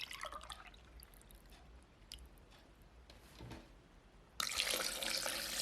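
Milk is poured from a cup into a blender for a cornflakes smoothie, a soft liquid trickle that swells into a brief loud splashing rush near the end.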